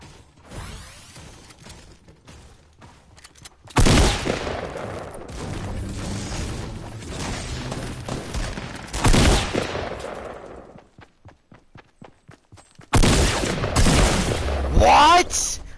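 Gunfire in the video game Fortnite: loud bursts of rapid shots break out in several clusters between quieter stretches, with a player talking over parts of it.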